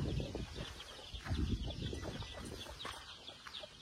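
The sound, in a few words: Peruvidai roosters clucking on a farm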